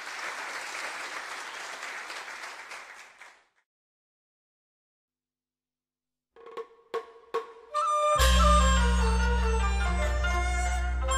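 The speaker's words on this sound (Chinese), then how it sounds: "请咱掌声欢迎" Brief applause from an audience at a Teochew opera New Year gala welcoming a performer, a few seconds of clapping that fades to silence before percussion and instrumental music begin.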